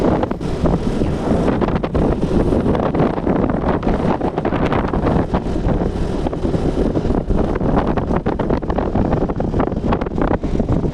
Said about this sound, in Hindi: हवा चल रही है बहुत ठंडी ठंडी